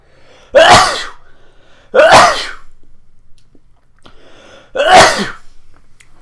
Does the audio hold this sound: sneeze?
yes